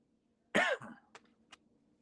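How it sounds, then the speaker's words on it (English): A single harsh, close cough followed by a short throat-clearing rasp and a couple of faint catches, from a man with a lingering cough, heard alone against quiet. "Still got that lingering cough,"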